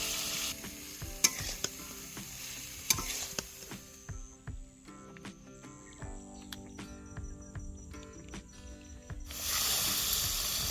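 Chicken stir-fries with turmeric and spices in a pan, a close sizzle with repeated stirring scrapes and clatter, quieting midway before the frying swells again, with no talking.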